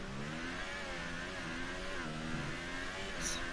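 An F1 car engine in F1 2019 screams steadily as the car climbs uphill, with a high revving whine that shifts pitch and stays fairly faint and continuous throughout.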